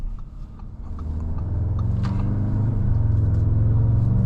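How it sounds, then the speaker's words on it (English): A 2025 Audi S3 engine rumbles low and steadily, its deep exhaust note building in loudness as it revs, with burbles and a faint turbo whoosh partway through. "Also, exhaust notes, a lot of burbles and pops, which I really like to hear."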